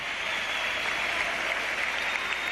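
Sustained crowd ovation and applause from the public at a vintage basketball game, a steady dense roar of clapping and cheering filling the whole moment without a break.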